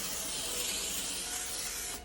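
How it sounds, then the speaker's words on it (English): Vegetable oil cooking spray hisses onto a baking pan in one continuous, close, steady burst lasting about two seconds, with no talking. "My personal preference is vegetable oil spray."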